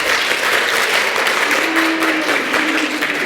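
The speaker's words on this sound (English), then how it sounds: "All right, let's give 3 claps for Jude." A group in a lesson setting claps together in a short, dense burst of applause lasting a few seconds, close and fairly loud.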